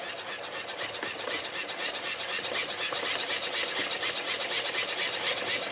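Hand crank of a Red Cross emergency radio turned steadily, a continuous close whirring, grinding rattle with a fast regular rhythm and no pauses.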